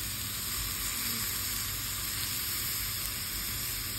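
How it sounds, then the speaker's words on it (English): Tomato slices brushed with balsamic vinegar or soya pan-fry with a steady, even sizzle and hiss that holds at a constant level, with no talk. "place tomato slices, brush balsamic vinegar or soya, and pan fry them until they are nice and slightly brown in color on both sides"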